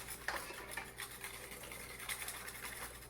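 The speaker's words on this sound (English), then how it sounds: "I'm gonna continue to whisk it together." Eggs being whisked in a bowl while they are tempered for a mille-feuille cream, giving a steady, faint scraping and swishing with light clinks against the bowl and no talking.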